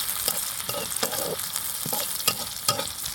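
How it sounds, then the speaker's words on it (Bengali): Chopped onion and whole cumin seeds fry in hot oil, a continuous sizzle broken by repeated scraping stirs of a spatula, close and clear, with no voices. "ফোড়নের পেঁয়াজটাকে আমি ভেজে নেব, একেবারে বাদামি করে ভেজে নেব"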